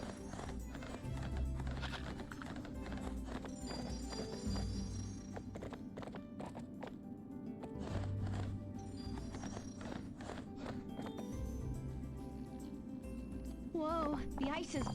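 Rhythmic clip-clop hooves and a whinny from a horse in the video game Barbie Horse Adventures: Wild Horse Rescue play steadily under people talking.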